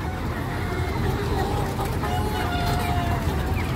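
Chickens and roosters at a poultry operation selling egg-laying hens, with clucking and a few faint drawn-out crowing calls under a steady murmur of background voices and farmyard noise.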